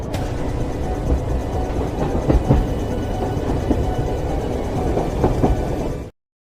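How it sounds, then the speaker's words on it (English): Steady rumbling train on rails, billed as a haunted train, with rhythmic clickety-clack bursts and occasional clanks, loud and continuous for about six seconds before cutting off abruptly. "I will grab the haunted train to pick y'all all up on the way to Speculation Station."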